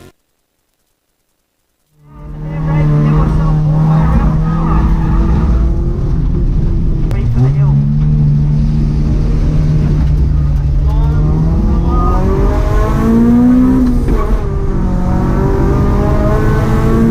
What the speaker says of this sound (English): then braking drift, and then I'm on the brakes and the